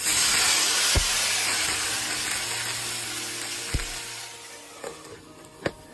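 A quarter cup of water poured into a hot pan bursts into loud steaming sizzle that fades gradually, broken by a few sharp clicks and knocks of cookware.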